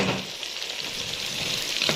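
Onion rings sautéing in a hot pan for homemade pizza topping, a steady close sizzle and crackle of frying that holds evenly throughout without pause.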